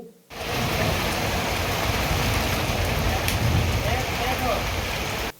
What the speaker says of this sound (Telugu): అరగంట ఎడతెరిపి లేని వర్షం కురియటంతో రహదారులు జలమయమయ్యాయి